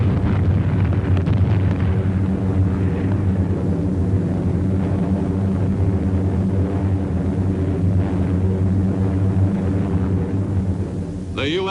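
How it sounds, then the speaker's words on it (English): Bombs dropped by B-24s explode on the island fortress of Iwo Jima, a loud, continuous low rumbling roar with heavy booming that fills the whole stretch, rough archival wartime sound with no speech. "American B-24s made regular pre-invasion bomb runs to Iwo."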